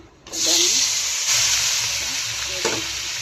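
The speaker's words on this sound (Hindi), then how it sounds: "पियाज कंचा लंका टमाटर भाजी दबा" Onion, green chili and tomato hit hot oil in a pan, bursting into a loud, steady sizzle that keeps crackling close by, with a couple of faint stirring clinks underneath.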